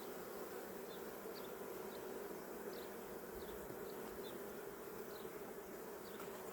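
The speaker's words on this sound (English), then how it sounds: "Oh, look at all them bees." Honeybees in an opened beehive give a steady, dense buzzing drone throughout, soft but constant, with no talking.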